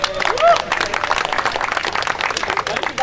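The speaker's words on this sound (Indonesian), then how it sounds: "kasih tepuk tangan dulu dong untuk" A crowd claps for the speakers at a democracy forum rally, with dense applause running throughout the clip beneath a voice.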